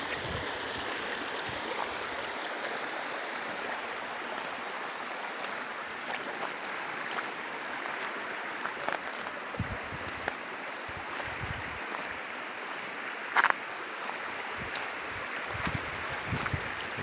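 A clear river in Santa Maria, Laguna, runs past stone walls built to hold the water, giving a steady, fairly close rushing flow with small splashes and wind throughout.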